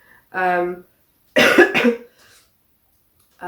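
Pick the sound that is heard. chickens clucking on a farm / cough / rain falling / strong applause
cough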